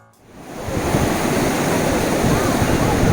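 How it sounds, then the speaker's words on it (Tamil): Sea waves break and rush on a white sand beach at Arichal Munai near Dhanushkodi, Rameswaram, where waves meet from three sides. The surf swells into a loud, continuous roar that fills the whole stretch. "3 பக்கத்தில் இருந்து கடல் அலைகள் ஒன்று சேர்றதை நம்ம பார்க்கலாம்."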